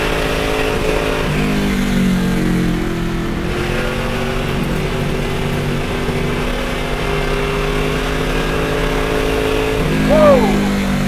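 A Mustang engine revs hard in second gear, a loud, steady drone that stays up close the whole time and swells slightly near the end.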